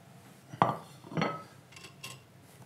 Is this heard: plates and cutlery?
yes